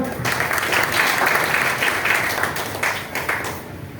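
A hall audience at a business-plan presentation gives a hearty round of applause: brisk, dense clapping from many people, loud and sustained with slight swells, tapering a little toward the end.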